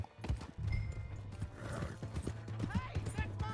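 Horse hooves clip-clop in an uneven rhythm in the Western video game Red Dead Redemption 2, moderately close, with a horse's whinny, some mechanical clanking, and bits of other game sound around them.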